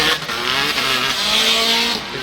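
Drift cars at a Formula Drift Japan round roar through a tandem transition, their engines loud and continuous with rising pitch and tire squeal running steadily throughout.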